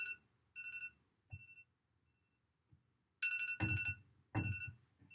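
A timer alarm rings in repeated electronic beeping bursts. The tones come in short pulses, then in longer and louder runs, with a few soft thumps among them, heard alone without talk.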